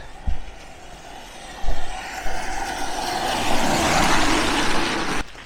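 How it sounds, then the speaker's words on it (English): Cars swish past on a wet main road beside a coastal walk, a few near passes with thumps as tyres hit the road, then a swelling rush of a vehicle going by, fairly loud. "Let's try not to get splashed by the passing cars"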